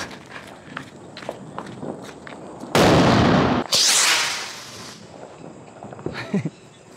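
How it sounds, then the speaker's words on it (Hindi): A 50-shot Diwali firework cake goes off in Kota: a loud sustained barrage of rapid crackling bursts lasting about two seconds, with a short gap, then another heavy burst, after lighter footsteps and street noise. "देखो 50 शॉट कुछ इस तरह से निकलता है"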